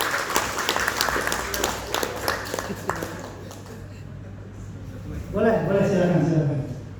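An audience at a talk claps, a burst of applause fading in the first few seconds, followed by someone speaking into a microphone.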